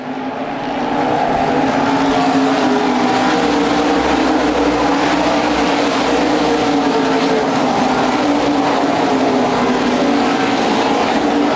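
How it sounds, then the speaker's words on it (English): Modified race cars at speed on an oval track at an Indianapolis raceway during a USA Modifieds race: a loud, steady engine roar that holds constant throughout, with no talk. "second place battle might be heating up here as the 14 of Burkett trying to inch closer to the 42 of Joe Axum off of turn number 4"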